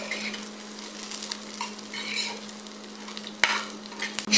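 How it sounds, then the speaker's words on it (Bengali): Whole cumin and other spices dry-frying in a pan for a dried shrimp mash, a soft continuous sizzle with stirring scrapes, a low steady hum underneath and a sharp utensil knock near the end. "আবারও সবগুলো উপকরণকে একসঙ্গে একটু ভেজে নেব।"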